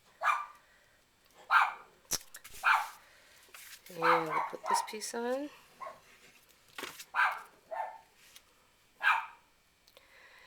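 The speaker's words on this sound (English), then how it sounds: "Sorry about the dog." A dog barks in short bursts during a card-making session, its yips and barks spaced between and over a person speaking nearby.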